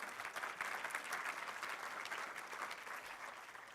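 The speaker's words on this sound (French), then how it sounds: "Oui, ça mérite une main d'applaudissement." Audience claps together in steady applause, fairly faint and distant, continuing evenly for a few seconds.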